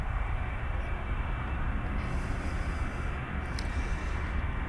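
Steady, unbroken engine roar of an airplane taxiing at Birmingham Airport, a broad continuous rumble heard from a distance with no talking.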